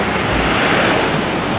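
Ocean surf rolling in at Ladder Beach on Saipan, a steady loud wash of breaking waves with wind buffeting the microphone throughout, no voices.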